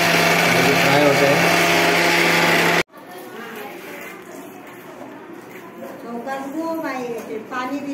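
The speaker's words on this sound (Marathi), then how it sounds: "आता हे मित्रांनो आहे वड्याचं मशीन" An electric grinding machine running with vada batter, a loud steady motor whine that stops abruptly partway through, after which people talk in the background.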